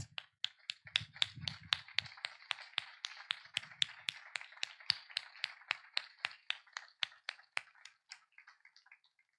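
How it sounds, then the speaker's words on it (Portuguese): A church congregation claps in a steady, even rhythm, roughly three beats a second, faint and somewhat distant. A low murmur sits under the first couple of seconds, and the clapping tapers off at the end. "Eu queria que nós aplaudíssemos."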